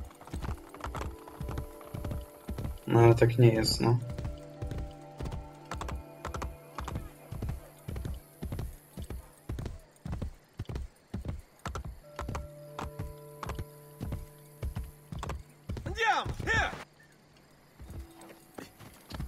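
Horse hooves galloping in Assassin's Creed Brotherhood, a steady, loud, rapid clip-clop beat running almost throughout, with a brief spoken remark and a couple of louder bursts.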